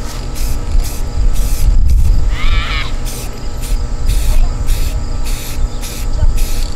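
Rust-Oleum trim and bumper paint hisses from an aerosol can in a series of short, loud, evenly spaced bursts close to the listener, with a low background rumble.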